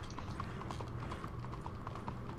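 Horse hooves clip-clopping in the video game Red Dead Redemption 2, a steady, even rhythm of light hoof falls at moderate distance over a low background hum.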